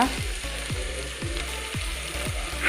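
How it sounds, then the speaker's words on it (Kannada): Crab pieces fry in a pan for coastal-style crab sukka, a steady close sizzle broken by five or six rhythmic low scraping thumps as the mix is stirred, with no talking. "ನಾವು ಹೀಗೆ ಫ್ರೈ ಮಾಡ್ತಾ ಇದ್ದೀವಿ ನೋಡಿ"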